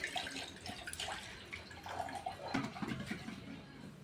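Water scooped into a pot for washing hands in a home kitchen while bhaji fries, soft irregular splashes and sloshing at low level, with no voices.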